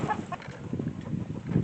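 American Buff chickens in a holding pen, clucking and murmuring close by in a short, uneven run of low fowl calls.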